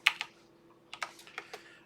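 Keys clack on a computer keyboard during coding, a few quick taps early then a loose cluster of light strokes, close and fairly quiet with no talking.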